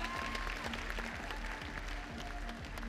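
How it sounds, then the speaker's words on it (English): Audience applause for dancers at a dance competition final, a steady wash of clapping at moderate distance, with a sustained tone and some faint background voices running underneath. "applaudissements pour eux"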